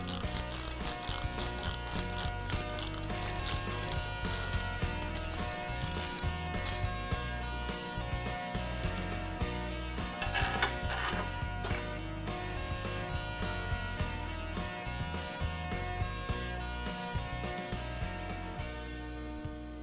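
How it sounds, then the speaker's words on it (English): A Safe Roll flange removal tool lever ratchets a manway back into place, a long run of rapid metallic clicks from the pawl, close and fairly steady with brief changes in pace. "just reverse the lever. And roll the manway back into place."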